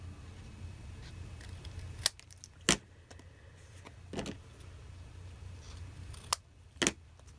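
Scrapbook paper being trimmed for a journal cover, a few sharp, separate cutting snips standing out against a quiet room hum.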